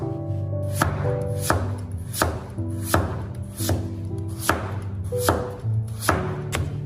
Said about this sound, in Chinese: 接着先把萝卜切成薄片